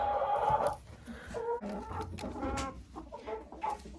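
A hen clucks in a chicken coop, a run of close, fairly loud clucks and throaty calls that repeats in irregular bursts with no talk over it.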